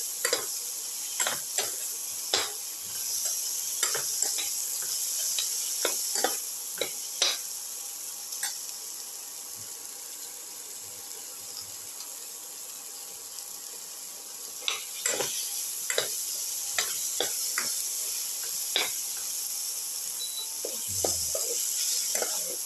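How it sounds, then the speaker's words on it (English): A ginger, shallot and tomato mixture sautéing in a pan, with steady sizzling and frying hiss broken by repeated sharp scrapes and clacks of stirring against the cookware, close and moderately loud throughout. "Keep on sauteing."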